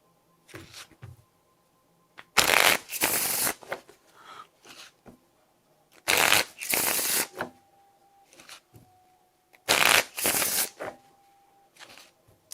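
A deck of playing cards for a solo board game is shuffled in three bursts of loud, close riffling, with quieter card handling and soft tapping in the pauses between them.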